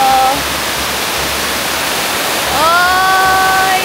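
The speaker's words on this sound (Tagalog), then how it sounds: "Sobrang ganda ng falls!" Tekip Falls on Mt. Patullok roars as a constant broad rush of falling water, loud and near, while a voice speaks at the start and again near the end.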